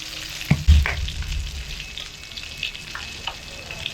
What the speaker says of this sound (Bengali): অবশ্যই মিডিয়াম আঁচে ভাজতে হবে এবং সুন্দর একটা ফ্লেভার বেরোতেও শুরু করেছে